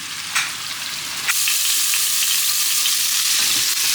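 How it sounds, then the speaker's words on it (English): Bacon lardons frying in a pan, a steady close sizzle with bright crackling and occasional stirring scrapes, no voices. "the bacon lardons are frying"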